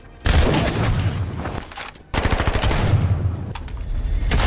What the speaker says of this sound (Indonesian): Baku tembak dimulai.